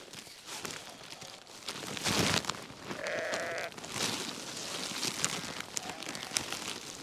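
Scottish mule ewes bleat at feeding time in a lambing shed, a couple of clear calls rising over a constant bustle of shuffling hooves and movement.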